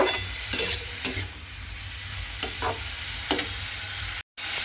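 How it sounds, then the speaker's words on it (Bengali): Steady sizzling from onion and radish frying in a pan, broken by a few sharp scraping stirs, close and fairly loud with no talking. "এবারে পেঁয়াজ আর মূলোটা দিয়ে আমি কিন্তু এইভাবে একটু সময় নিয়ে ভাজা ভাজা মতো করে নেব"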